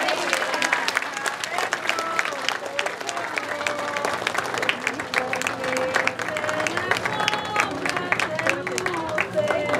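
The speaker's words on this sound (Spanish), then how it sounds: "Otro aplauso muy fuerte para esta mayordomía y esta santísima bandera." A crowd gathered for a Quita Bandera ritual honoring San Nicolás de Tolentino claps in a busy, uneven burst that lasts throughout, with crowd chatter and scattered voices mixed in.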